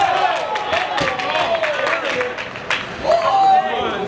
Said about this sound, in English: Come on, folks. Cheer on.